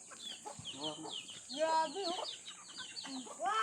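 Texas gamefowl chickens cluck and call continuously, a busy flock heard close with overlapping short clucks and rising crow-like notes.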